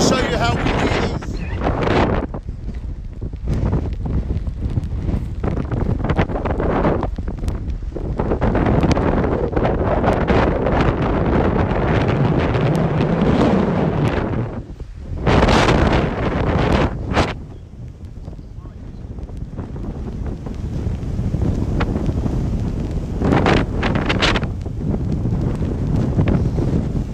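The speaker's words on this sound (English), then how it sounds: "Very windy, very stormy." Strong wind from Storm Dennis roars and buffets the microphone almost continuously by a wild sea at Jaywick Sands, with loud gusts and only brief lulls.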